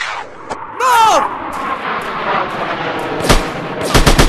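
Gunfire and blasts in the video game Ultimate Army Shooter, sharp bursts and booming impacts clustered near the end, mixed with game effects and voices.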